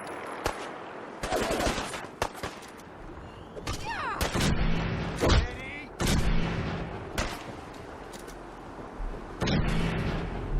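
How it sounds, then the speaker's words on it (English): Combat in the video game Fallout 4 with a grenade explosion among repeated gunfire and blasts, loud, sharp bursts spread through the scene, no talking heard. "That grenade works."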